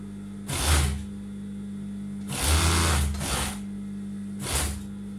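Sewing machine stitching the shoulder seam of a tunic, heard in three loud runs of rapid needle whirring separated by the steady hum of the idle motor, close to the microphone with no talking.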